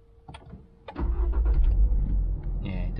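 Toyota GR86 engine starting: a faint electric click and starter whir, then the engine catches abruptly into a loud, steady idle rumble that holds close and unbroken to the end.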